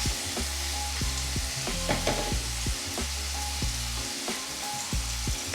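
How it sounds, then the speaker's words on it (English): Onion and garlic sauté in a pan with a continuous, close sizzle. Repeated spoon-on-pan scrapes and taps come in an uneven rhythm as the mix is stirred, with no talking. "So we'll just continuously saute that"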